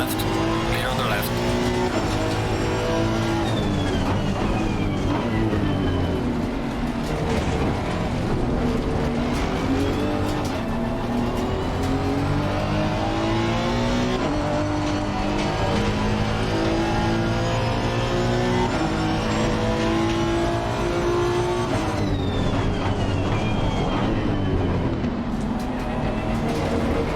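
Race cars in Assetto Corsa Competizione career mode roar past continuously, with engines revving and shifting up and down, loud and close throughout, and a driver talking over the din.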